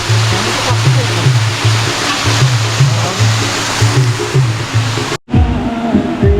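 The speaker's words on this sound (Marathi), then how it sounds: "मस्त निसर्ग आहे, मस्त धबधबा आहे" A waterfall in a natural outdoor setting roars as a loud, steady broadband rush close by, with a low rhythmic hum running underneath and a brief dropout near the end.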